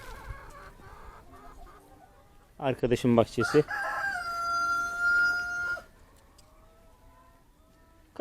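Chickens cluck in a backyard garden, then a rooster crows loudly and close, a long drawn-out call, with a brief spoken voice nearby.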